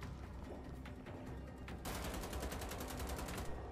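Rapid automatic gunfire in Wolfenstein: The Old Blood, a loud, steady stream of shots that intensifies into a fast, evenly spaced burst in the second half.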